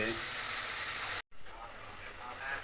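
Crab curry masala, made with a paste of onion, garlic, dried chilli and turmeric, sizzles steadily in the pan as it is sautéed, a bright close hiss cut off by a brief silent gap midway.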